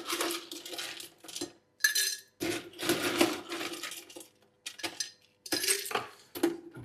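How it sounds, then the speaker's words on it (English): Ice cubes tumble and clink into a glass cocktail mixing glass for a Negroni, in a series of bright, irregular rattling bursts separated by short pauses. "we want a mixing glass. We're going to add a good helping of ice"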